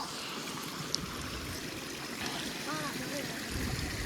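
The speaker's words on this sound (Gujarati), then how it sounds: "તો નદી અત્યારે ફૂલ નદી આવી છે." A river in full flow after heavy rain, a steady broadband rush of water running close by throughout, with faint voices at the edges.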